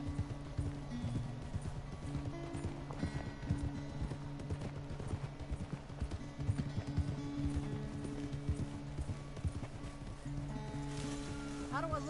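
A horse's hooves clip-clop steadily in Red Dead Redemption 2, a continuous rhythmic beat at moderate distance under a low ambient bed, with speech over it.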